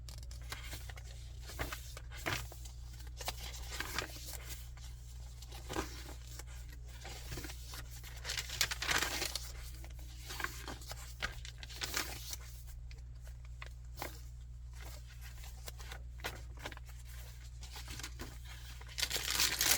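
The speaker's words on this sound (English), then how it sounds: "We got some crunchy tracing paper that was coffee dyed." Stiff, crunchy coffee-dyed tracing paper crinkles and rustles in bursts as it is handled, crisp crackles coming and going over a low steady hum.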